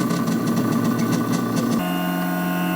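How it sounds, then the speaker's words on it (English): An air compressor runs steadily to feed clay through a 3D printer for sculpture making, giving a continuous loud mechanical drone with a brief pulsing texture that shifts to a smoother, lower hum partway through. "I just need to play with the pressure on the air compressor"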